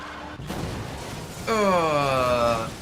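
A V8 car engine in Need For Speed Most Wanted 2012, rumbling low then surging into a loud, rising revving howl that climbs in pitch, with a short thud early on.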